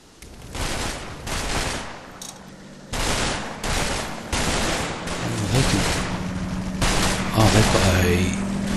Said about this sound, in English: They're shooting over here.